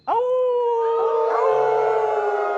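People on a talk show howl like wolves at the moon, a loud sustained rising human howl with voices layered in, imitating the animal.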